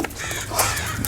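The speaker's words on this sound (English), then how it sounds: "It's a lot of crows today." Crows cawing in quick, loud calls close by outdoors, several harsh caws packed into about a second with no talk.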